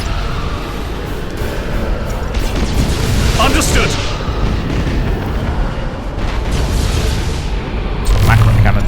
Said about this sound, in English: So macro cannons are doing their job.